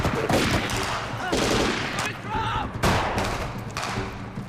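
Film-scene gunfire from soldiers laying down covering fire, dense overlapping bursts of shots and heavy thuds in a loud, sustained fusillade with shouting voices mixed in.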